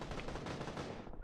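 Rapid gunfire bursts in the PUBG video game, a dense volley of sharp cracks lasting about a second at moderate distance, no talking.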